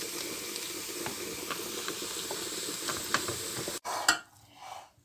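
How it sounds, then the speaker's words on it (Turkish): Onions and basil sauté in a pan, a steady sizzle with soft stirring scrapes for most of the time, then a sudden cut to quieter, more scattered sounds at the end. "Sonra reyhanımızı döküyoruz. 1-2 dakika bununla kavuruyoruz."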